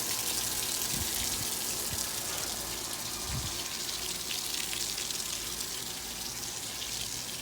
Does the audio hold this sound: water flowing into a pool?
yes